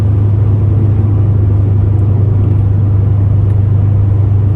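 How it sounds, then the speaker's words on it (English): Subaru WRX coasting downhill with foot off the accelerator on a mountain road, a steady loud low engine and road rumble heard from inside the car. "Basically just foot off the accelerator the whole time and just coast down the hill."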